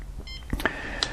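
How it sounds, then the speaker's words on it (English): A Flysky FS ST8 RC transmitter gives a few short, clear electronic beeps, close and distinct, with small button clicks between them. "that's when it gives you a beep"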